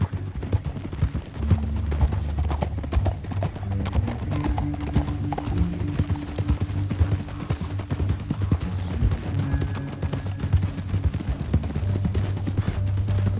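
Horses' hooves clip-clop in a quick, continuous trot in a Red Dead Redemption 2 canyon scene, close and fairly loud, with low engine-like hums and faint background tones underneath.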